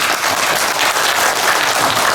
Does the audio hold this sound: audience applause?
yes